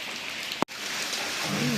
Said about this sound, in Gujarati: લુસાડા ગામમાં ફૂલ વરસાદ આવી ગયો છે ભાદરવા મહિનાનો વરસાદ